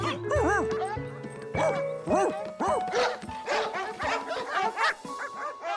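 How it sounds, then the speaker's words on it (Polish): Many cartoon dogs in an animated Curious George episode bark, yip and whimper in a rapid, overlapping chorus that bounces along with varied pitches, close and fairly loud. "W domu było pełno obcych psów. Bardzo dziwnych psów."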